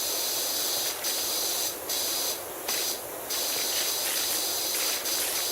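Steady hiss of a pressure washer jet through a 40-degree nozzle cleaning a roof in Powerwash Simulator, continuous and fairly loud with brief dips where the spray pauses.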